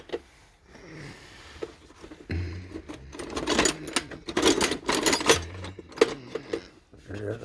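Small wrenches clink and rattle as hands dig through an old Wizard metal toolbox, giving irregular metallic jingling and clanks close by, mixed with someone talking.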